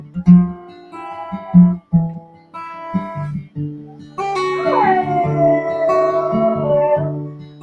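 A dog howls and whimpers indoors, a long drawn-out wavering howl rising then sliding down, preceded by several shorter whining yelps, close and fairly loud.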